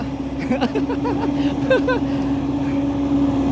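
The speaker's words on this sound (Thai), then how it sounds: "ดูท่อไอเสียผมดิดิ้นเดวเดวเดวเดวเดว ขาดซะแล้ว" A small motorcycle engine with a broken exhaust pipe idles with a steady, raspy hum. Someone talks over it at close range.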